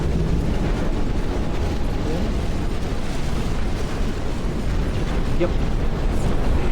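Missile explosions in the mech strategy game Phantom Brigade form a dense, continuous rumbling barrage of blasts, loud and sustained throughout, with a brief spoken word.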